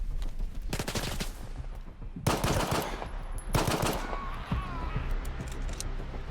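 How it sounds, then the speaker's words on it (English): Bursts of automatic gunfire ring out in the shooter game S.T.A.L.K.E.R. 2: Heart of Chornobyl, several loud rapid volleys separated by short gaps, with weapon handling clicks and a faint whine between shots. "The gun sounds feel really good."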